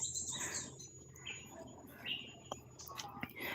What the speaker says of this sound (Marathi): ह्या इथल्या पक्ष्यांचा आवाज असेल